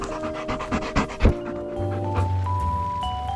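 A dog pants rapidly and audibly after exercise outdoors near water, a quick rhythmic huffing that is loudest at first and then fades under a faint background hum and tones.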